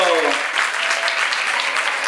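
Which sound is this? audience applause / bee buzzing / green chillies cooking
audience applause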